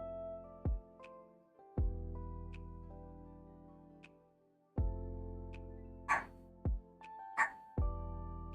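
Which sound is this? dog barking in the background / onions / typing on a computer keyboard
dog barking in the background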